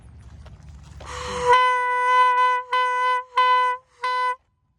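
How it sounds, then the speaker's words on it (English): Car horn honking in a quiet neighborhood: a long loud blast followed by four shorter honks in uneven rhythm, with faint rumble beforehand. "I'll go honk and see if she hears it."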